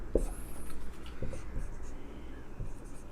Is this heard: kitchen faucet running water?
no